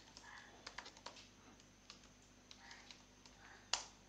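Password being typed on a computer keyboard: a quiet run of scattered key clicks at an uneven pace, ending in one sharper, louder keystroke.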